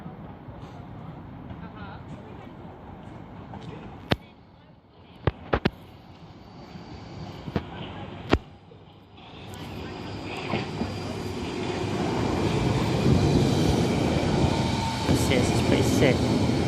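Quiet surroundings with a few sharp clicks give way to a train rumbling in and its carriages passing, growing louder and steadier toward the end, with someone talking over it.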